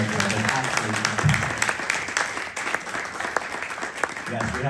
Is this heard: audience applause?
yes